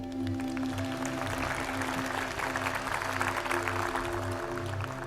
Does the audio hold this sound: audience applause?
yes